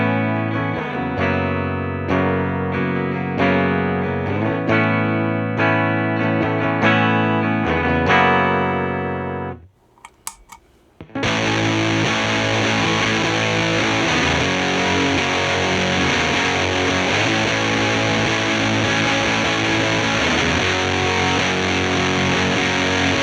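Heavily distorted electric guitar chords through a Fuzz Face pedal into a Fender cabinet emulation ring out loud and saturated, a brief near-silent break, then a sustained fuzzy wall of guitar tone continues.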